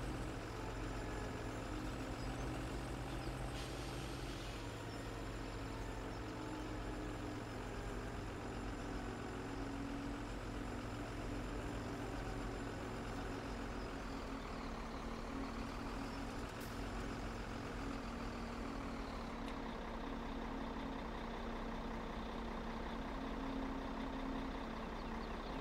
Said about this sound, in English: What tractor is that?